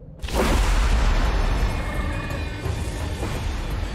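A cannon fires in the horror video game The Baby in Yellow, a sudden loud boom after a brief quiet moment, followed by a heavy rumbling roar that lingers and slowly fades.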